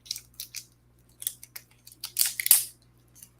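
A green apple candy lollipop's wrapper is peeled away in short, sharp crinkling bursts separated by pauses, close up, with a louder burst of rustling near the end.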